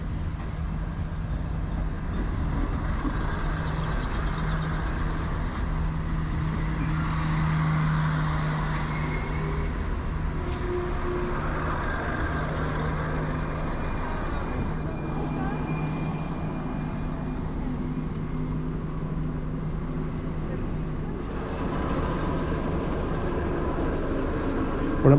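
Steady interior rumble of a Class 592 diesel multiple unit running on the slow line between Torres Vedras and Sintra, with a constant engine drone and rolling hum throughout and a few faint rail clicks.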